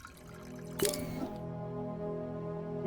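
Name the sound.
liquid being poured in the video game Avowed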